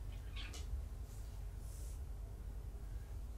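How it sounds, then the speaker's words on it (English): Cat growling, a low, faint, continuous rumble with a couple of brief higher yowling bursts early on. "Miss Tangy is just a growly cat"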